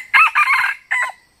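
A young jungle fowl rooster crowing close and loud, one short broken call in two bursts with no talk over it.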